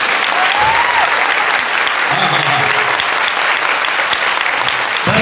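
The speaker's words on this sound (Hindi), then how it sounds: "बस यहाँ सिर्फ ताली बजी है" A church audience at a religious gathering claps loudly and continuously, a dense, close wall of applause that holds steady throughout.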